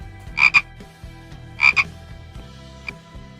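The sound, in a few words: frog croaking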